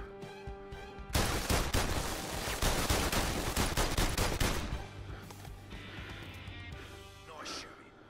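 Rapid gunfire in PlayStation VR Worlds: The London Heist, a dense burst of loud, close shots lasting several seconds before trailing off into scattered faint sounds, with a voice speaking nearby.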